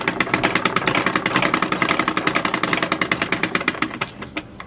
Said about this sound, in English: Sewing the facing on.